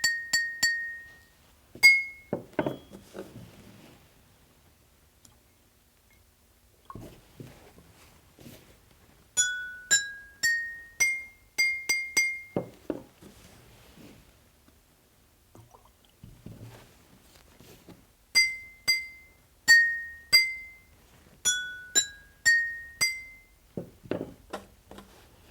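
Glass containers struck in a science demonstration on vibration, bursts of bright ringing clinks at varying pitches, some in quick runs, with quiet gaps and faint rustling between them.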